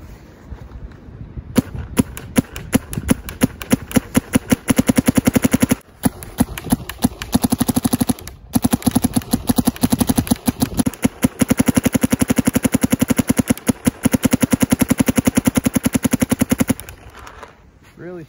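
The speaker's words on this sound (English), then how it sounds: "ramping in 14 balls a second just to see if we can maybe create maybe a dropping situation, just higher rate of fire in the cold" A Luxe X paintball marker fires outdoors in cold weather, ramping at about 14 balls per second: a loud, close, rapid machine-gun-like stream of pops in long sustained bursts with brief gaps.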